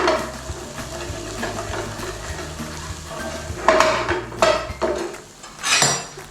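Spices bloom in a pan for mango chicken curry as a spoon scrapes and clanks against the metal, with loud stirring strokes over a low background hum and a faint sizzle, close and no voices.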